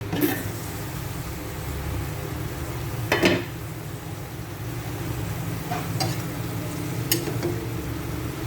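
String beans (sitaw) simmering in a covered pan, a soft continuous bubbling hiss with a few sharp clinks and taps scattered through it, fairly quiet and steady, with no talking.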